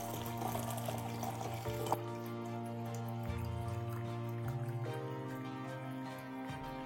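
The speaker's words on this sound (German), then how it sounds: "Ich gieße den Reis mit 1 Liter warmem Wasser auf." Warm water, about a litre, poured over rice to make rice water for orchid care, a steady continuous pour or running-tap rush lasting throughout, close and fairly even in level.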